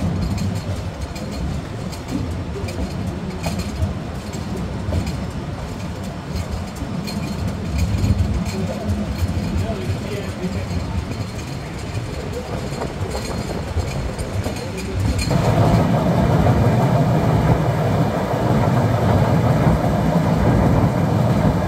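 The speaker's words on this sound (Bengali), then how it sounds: "ট্রেনটি এই মুহূর্তে প্রবেশ করছে নতুন নির্মাণ করা যমুনা ডুয়েল গেজ রেলওয়ে সেতুতে" Dhumketu Express train rolling onto the newly built Jamuna dual-gauge railway bridge, a loud continuous rumble of wheels and carriages that deepens and swells as it moves onto the bridge span.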